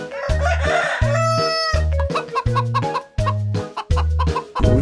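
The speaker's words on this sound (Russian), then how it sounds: "Я пойду курицу хоть снимаю" Chickens cluck and squawk loudly and close by on a small farm, over a steady repeating low mechanical thump, with no talking.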